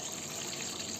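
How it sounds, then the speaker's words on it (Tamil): Water poured steadily into a cooking pot while preparing tuna fish soup, a continuous soft gushing hiss throughout, fairly quiet and with no talk. "3 பேருக்கு தேவையான அளவு தண்ணியை ஊற்றிக்கிறோம்"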